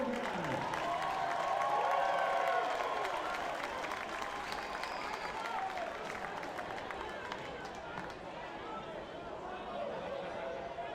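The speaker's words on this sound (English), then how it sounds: "It's a nice hand from the crowd here in Staten Island." A baseball crowd at a Staten Island minor-league game applauds a fan's grab between sections of seats, with steady clapping and chatter throughout while a commentator talks over it.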